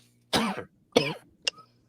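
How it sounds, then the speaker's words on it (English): Two harsh, close coughs about half a second apart, then a short, sharp throat-clearing catch, in a quiet room with a faint background hum and no talking. "I'm developing a cough"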